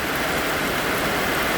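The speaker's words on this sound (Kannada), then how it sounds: "ನೋಡಿ, ತುಂಬ ಮಳೆ ಬರ್ತಾ ಇದೆ." Heavy rain pours down in the Kerala coastal village of Ayirathengu, a dense, steady hiss of water that fills the whole clip without a break and with no voices.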